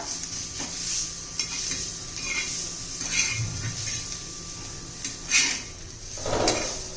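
A spoon stirs ridge gourd peel chutney in a pan with a soft, continuous scrape and a faint sizzle underneath, broken by occasional light clinks and knocks against the metal, heard up close.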